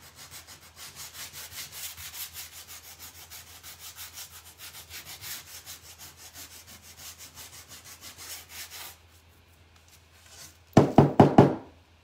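Sandpaper rubs back and forth over thin paint on a painted wood piece, distressing a buffalo plaid design in a steady scratchy rhythm for about nine seconds, then a brief pause and a few louder, sharper rubbing strokes close by.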